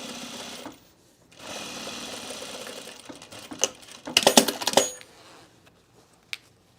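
A sewing machine stitches down along a zipper while sewing men's cargo shorts, running close and steady in bursts with a short pause, then a louder clattering run before it stops.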